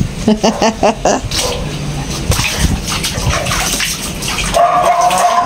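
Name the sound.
water while bathing a pet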